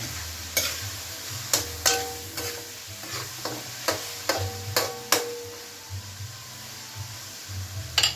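Chicken being stir-fried for chopsuey in a pan, a steady sizzle broken by repeated sharp scrapes and taps of a spatula, close and alone.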